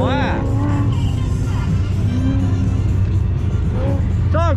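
A race car cornering sideways on an autocross course, a 1967 Mustang or 1970 Camaro pro touring build, with a loud steady engine roar and tire squeal sweeping through the turn, close and continuous.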